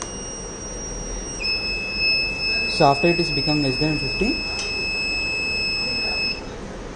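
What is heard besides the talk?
battery monitor buzzer alert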